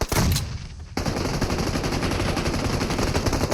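Rapid automatic gunfire from the PUBG Mobile video game, a loud dense burst of shots after a brief opening volley, continuing steadily and close throughout.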